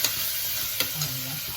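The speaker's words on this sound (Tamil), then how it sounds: "ஒரு நூறு கிராம் பன்னீர் கட் பண்ணி அதில் போட்டுக்கலாம் ஒரு கலக்கு" About a hundred grams of cut paneer cubes are stirred in a frying pan, giving a brief soft scrape with a light sizzle and one sharp tap near the middle.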